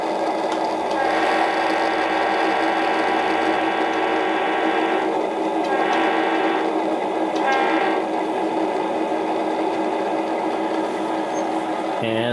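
A steady mechanical drone and rattling hum of a model N scale locomotive sound played from a speaker on the floor, continuous and fairly loud, with brief rises in grinding texture.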